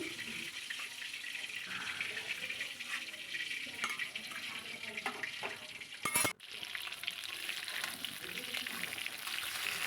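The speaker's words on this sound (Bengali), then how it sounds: "এখানে কিছুটা মাছ আমি ভেজে নিয়ে তুলে নিচ্ছি" Fish pieces frying in a pan, a soft steady sizzle with faint crackles, a brief loud clatter midway, and talk at times over it.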